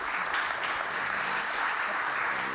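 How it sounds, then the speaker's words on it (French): Audience applause after a conference talk on reducing energy footprint, a steady dense clapping from a full room that holds evenly throughout without pause. "on peut l'applaudir à nouveau"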